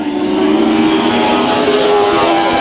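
Race cars in a heat race at Bakersfield Speedway roar down the front straightaway, a steady loud engine drone with sustained harmonic whine throughout, no breaks or talk.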